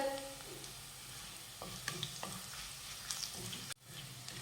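A pinch of asafoetida and half a spoon of turmeric stirred into hot oil with green chillies, for a Maharashtrian cabbage bhaji; a soft, low sizzle with scattered spoon scrapes and taps, fairly quiet throughout.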